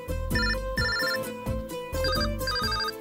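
An expensive mobile phone rings with a bright, repeating electronic melody in short looping phrases, loud and close, with no speech over it.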